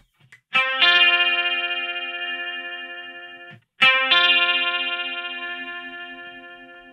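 An electric guitar through a Fractal chorus effect rings out two sustained clean chords, each struck once and left to decay slowly with a shimmering, gently modulated wobble.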